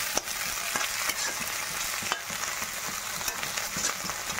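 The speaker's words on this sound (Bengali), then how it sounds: "ভাজা ভাজা করছি" Onion, tomato, green chillies and coriander fry in a pan for egg bhujiya, giving a steady close sizzle broken by regular scraping clicks of stirring.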